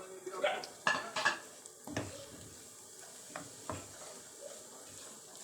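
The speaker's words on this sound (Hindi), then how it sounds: "बाकी इसके अंदर हम घी में सूजी भूनेंगे और सिलोई आंच पे भूनेंगे" Semolina roasting in ghee in a pan on a low flame, with a spoon scraping and clinking against the metal in scattered strokes over a soft, quiet sizzle.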